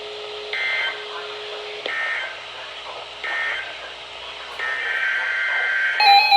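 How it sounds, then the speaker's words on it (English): A NOAA Weather Radio emergency alert test plays a series of electronic data bursts and beeping tones, several short repeated pulses followed by a longer steady tone, heard clearly over a faint broadcast background. "This has been a test of the NOAA Weather Radio Public Warning System."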